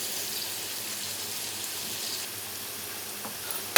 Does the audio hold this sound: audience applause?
no